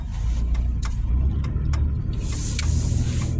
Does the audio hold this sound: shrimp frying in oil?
no